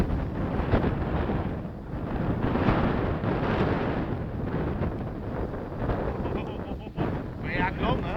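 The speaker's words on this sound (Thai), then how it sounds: "แต่ลมมันแรงดิผมไม่กล้าขึ้นหรอกลมแบบเนี้ย" Strong wind buffets the microphone outdoors during a windy RC model plane flight, a loud continuous rumbling roar with gusts rising and falling throughout.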